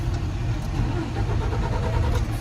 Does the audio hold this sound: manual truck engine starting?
yes